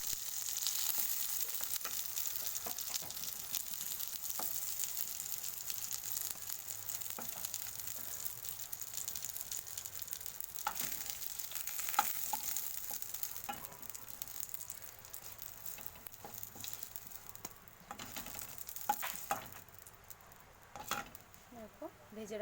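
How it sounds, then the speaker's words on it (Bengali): Pointed gourd pieces fry slowly in oil in a home kitchen, a steady soft sizzle and hiss running throughout, with occasional clicks and scrapes from stirring, fairly quiet and continuous. "তেল পটল মানেই পটলগুলোকে সুন্দরভাবে ধীরে ধীরে ভাজতে হবে।"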